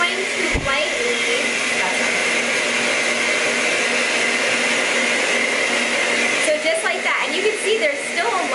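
A spray tan machine pushes air and powder through a hose with a loud, steady whooshing blow like a hair dryer, continuous and close, with a short thump near the start and faint handling sounds late.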